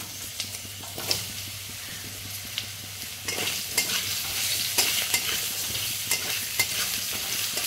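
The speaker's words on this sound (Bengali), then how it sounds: "এখানে আমি লম্বা করে কেটে রাখা আলুগুলো দিয়ে দিলাম।" Sliced potatoes, cut into long strips, frying in a pan of oil with a tempering of bay leaf, dried red chilli and five-spice, giving a steady close sizzle with scattered stirring clatters and no talk.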